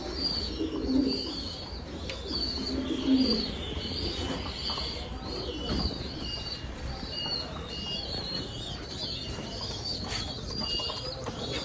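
A couple of soft, low pigeon coos early on, then steady background hiss and rustle, from a domestic pigeon coop in winter.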